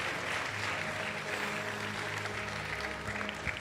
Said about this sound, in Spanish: Un aplauso nuevamente para ti.